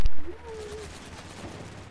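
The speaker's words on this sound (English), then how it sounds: "So many shots you hit right there." Gunfire in a PS4 video game, a loud burst of shots at the start followed by a quieter rattle and fading echoes.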